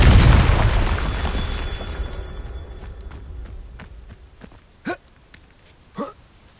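A Confringo blasting spell from the Hogwarts Legacy video game explodes with a loud, deep boom that fades slowly, followed by two brief faint pops.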